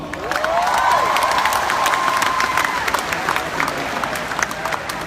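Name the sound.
applause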